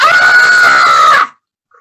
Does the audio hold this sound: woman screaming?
yes